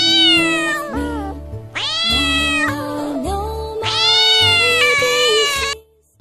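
A cat meows repeatedly in long, drawn-out, tonal cries, loud and close, with short pauses between calls and no talking.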